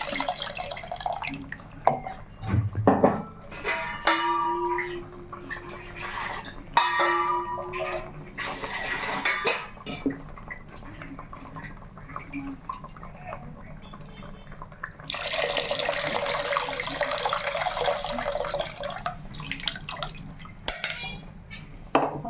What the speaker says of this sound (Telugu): దాంట్లో ఈ పులుసు వేసేసుకుందాం